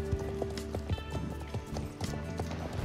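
Horse hooves in the Star Stable Online game, a steady clip-clop of a ridden horse close by over a busy layer of game music and ambient sound, with no talk.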